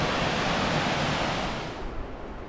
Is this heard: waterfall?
yes